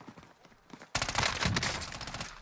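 Gunfire in Call of Duty: Modern Warfare erupts abruptly after a quiet moment, a dense, loud burst of rapid automatic shots continuing without pause to the end.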